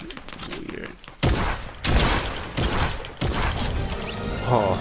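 Bursts of gunfire in Fortnite, rapid clustered shots with mechanical clatter in several loud volleys, mixed with game noise and a person talking over it.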